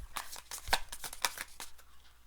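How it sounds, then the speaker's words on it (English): Tarot cards being shuffled by hand, a run of quick papery riffles and soft slaps in irregular bursts, close and fairly clear. "I was going to keep shuffling"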